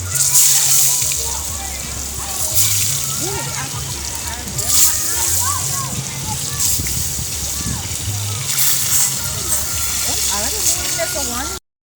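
Fish frying in oil in a pot over an outdoor fire in Jamaica, a steady loud sizzle and bubbling throughout, with talk running underneath.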